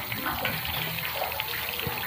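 Water is poured in while cooking carbonara sauce with evaporated milk, ham and mushrooms, making a steady, fairly loud rushing splash that lasts the whole moment.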